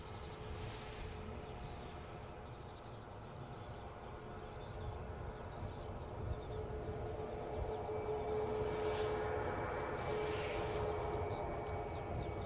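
A Ryanair airliner taxis at Edinburgh airport, its steady engine drone and whine holding throughout, building slightly louder toward the end, with a faint tonal hum riding over the low rumble.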